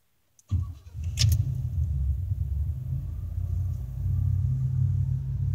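A 1989 Cadillac engine cranks and fires after a brief silence, settling into a steady, loud, low rumbling idle that runs continuously without talk.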